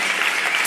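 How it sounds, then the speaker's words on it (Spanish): Church congregation claps for itself in a brief, dense burst of many hands, bright and steady with no voices over it. "Date un aplauso a ti"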